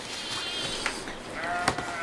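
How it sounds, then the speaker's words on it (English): Sheep and lambs bleat in a field behind a house yard, two short distant calls about a second apart over steady low outdoor background noise. "but we have sheep in the field right behind our yard"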